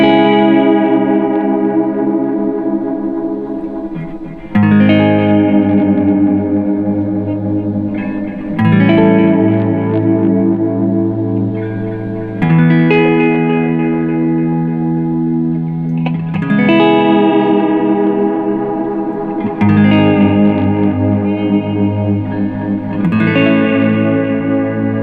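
A Squier J Mascis Jazzmaster through a modified Boss Metal Zone boost plays sustained chords, each ringing out before the next change, loud and full with a touch of reverb.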